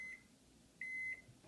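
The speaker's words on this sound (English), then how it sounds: "That's 3 minutes in the microwave with a fully soaked piece of wood wrapped in very wet paper towels." A microwave oven gives two short electronic beeps, the second longer, as its three-minute run heating a soaked piece of wood wrapped in wet paper towels ends, with a low hum in a quiet room.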